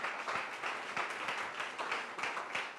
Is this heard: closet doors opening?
no